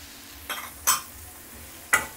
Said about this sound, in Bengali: এখন আমি এটাকে ভেজে নিব ভালো করে।